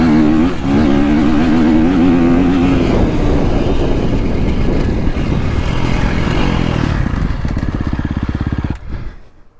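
A KTM 350 SX-F four-stroke motocross bike revs hard and loud while being ridden, engine pitch rising and falling through gears before easing to an off-throttle chuff and cutting out at the end.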